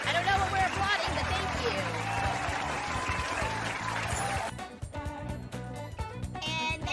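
Applause from a cheering crowd in the video game Persona 5 Royal, a dense wash of clapping that runs for several seconds before cutting off, followed by game music and sounds.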